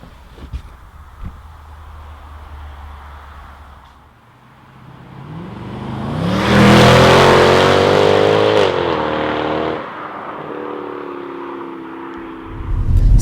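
A Mercedes C63 AMG V8 starts up and roars, swelling into a loud rev with rising pitch before settling back into a lower, throbbing idle, heard close up.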